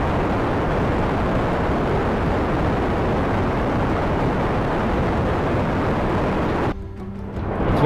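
Rocket engines firing in the game Kerbal Space Program make a loud, constant roar that fills the sound, then drop off sharply near the end before rising again.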